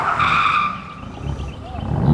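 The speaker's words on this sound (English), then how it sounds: "the VL's out on track" A Holden VL race car with an RB25 engine skids on a track, its tires squealing loudly in a sustained screech that fades briefly before the engine note swells again at the end.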